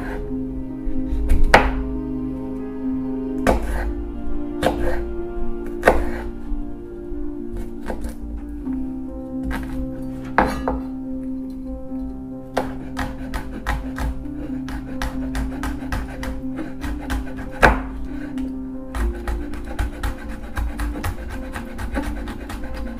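A knife chopping ingredients for Peruvian ceviche on a board, crisp irregular thunks, sometimes single and sometimes in quick runs, close and fairly loud, over a steady background hum with no speech.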